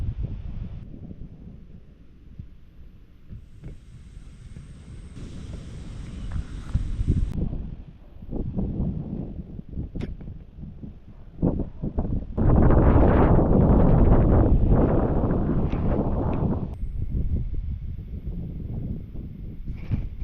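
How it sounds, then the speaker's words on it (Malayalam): Strong outdoor wind buffets the microphone in gusts of rushing noise that swell loudest toward the middle and then ease off, with rustling underneath. "നല്ല കാറ്റ്"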